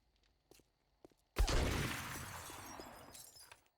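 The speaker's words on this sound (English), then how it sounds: "I was breaking the glass from the outside." Glass breaking in the video game 7 Days To Die: a few soft knocks, then one loud, close shatter with a crash of fragments that rings on and fades over about two seconds.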